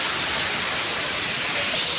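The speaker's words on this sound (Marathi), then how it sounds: "पाऊस जोरदार चालू" Heavy monsoon rain pours down in Konkan, a dense continuous hiss of downpour close by with no voices.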